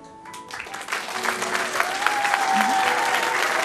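Audience applause at a Latvian talent show, a dense crowd clapping that swells from a thin start to a loud, steady roar, with a few voices and cheers mixed in.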